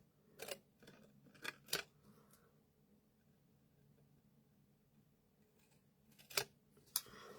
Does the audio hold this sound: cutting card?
yes